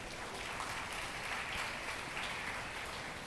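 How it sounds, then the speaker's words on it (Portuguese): Church congregation applauding during a worship service, a steady wash of clapping filling the room at moderate level with no voices on top. "Você pode aplaudir Jesus?"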